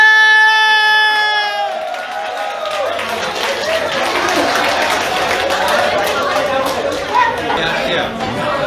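An audience at a Vietnamese performing arts troupe's special show gives sustained, loud applause and crowd noise that swells after a brief spoken introduction and carries on steadily to the end.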